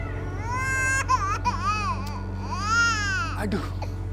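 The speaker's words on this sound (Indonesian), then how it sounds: "Aduh, berisik banget nih bayi ini." An infant cries in a series of rising and falling wails over a steady low hum, loud and close, with short pauses between sobs.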